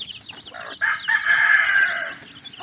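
Farm chicken crowing close by, one drawn-out strained call rising and holding for over a second before fading, alone without talk.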